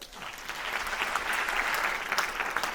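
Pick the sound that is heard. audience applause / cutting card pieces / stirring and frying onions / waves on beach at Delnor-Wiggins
audience applause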